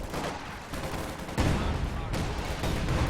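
Artillery barrage in a Company of Heroes 2 multiplayer match, with heavy rumbling blasts and a sharp booming impact near the middle, dense and loud, layered with ongoing battle noise.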